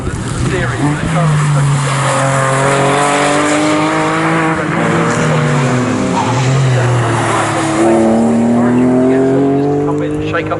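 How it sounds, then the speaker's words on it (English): Porsche Boxster race cars in a Restoracing event at Snetterton roar past the start-finish line, loud engines sweeping by one after another with rising and falling pitch, a commentator talking over them. "Here over the start and finish line have gone some of the leading cars in Restoracing."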